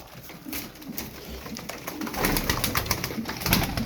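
Female tumbler pigeons coo softly nearby in soft repeated phrases, with faint rustling in the background.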